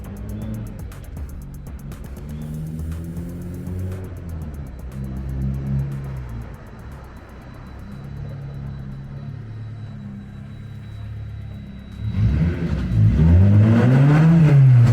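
A Honda CRX with a K20 engine drones steadily in the distance, then revs up loudly and nearer toward the end, with a rising, throaty pitch and no voices.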